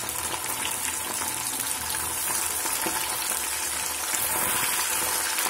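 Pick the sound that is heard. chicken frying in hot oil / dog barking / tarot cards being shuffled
chicken frying in hot oil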